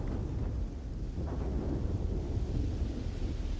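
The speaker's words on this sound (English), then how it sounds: "oh, it's raining." Rain and rolling thunder in the video game Starfield form a continuous, fairly quiet low rumble with a steady hiss of rainfall and no speech.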